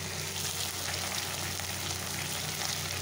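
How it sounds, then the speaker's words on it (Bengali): Fish frying in oil in a wok, a continuous moderate crackling sizzle with a low steady hum beneath, no voices. "মাছগুলো ভাজা হচ্ছে"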